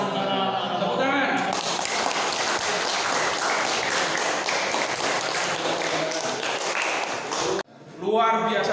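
Applause from a classroom audience after a student group's presentation, a dense sustained patter of many hands lasting several seconds before cutting off, with brief talk at the start and end.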